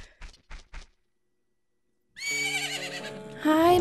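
After a few short clicks and a pause, a horse whinnies loudly in The Legend of Zelda: Majora's Mask, a bright wavering neigh that rises at the end.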